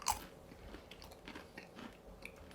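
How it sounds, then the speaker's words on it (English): Crunching bites of homemade low carb tortilla chips eaten with mild salsa, a loud bite at the start followed by several softer chewing crunches, close up with no talking. "You can hear the crunch from over here."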